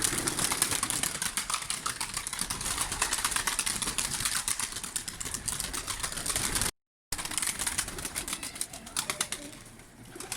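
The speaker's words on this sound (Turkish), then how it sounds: "Bakın yavrumuz da uçuyor bir yandan. Kuşlarımızın hepsi uçuyor." Domestic pigeons fly out of their coop with a steady, busy flutter of wings and faint bird calls that runs for about ten seconds, close and fairly loud, with no one talking.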